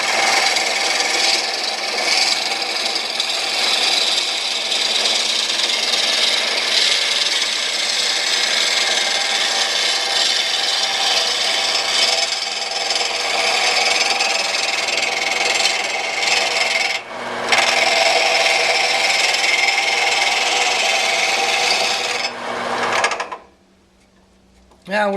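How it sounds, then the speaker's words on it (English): An oak rolling pin blank spinning on a wood lathe as a tool cuts it, a loud, continuous rough scraping hiss that runs steadily, briefly shifts, then cuts off near the end. "And now let's go mount it into the lathe."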